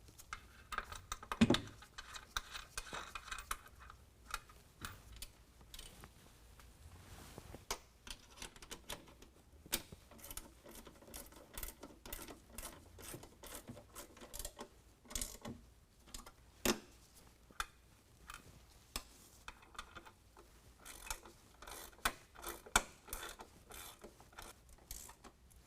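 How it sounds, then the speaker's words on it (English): A ratchet with a 13 mm socket tightening nuts on a Powerstep running board on a 2019 Ram 1500: quiet, irregular bursts of rapid clicking from the pawl, close by, with no voices. "then we'll tighten them down with a 13 millimeter"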